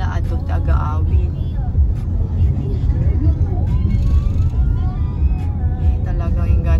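Road traffic in Manila heard from inside a vehicle, a continuous low engine and road rumble with occasional background voices and horn-like tones.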